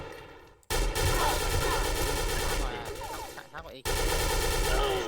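Silver ARX16 rifle in a shooting video game firing sustained bursts, loud and close, with a brief gap near the start and another near the end, over busy game sound.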